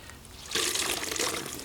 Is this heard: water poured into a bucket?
yes